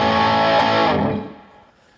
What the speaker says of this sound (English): It feeds back,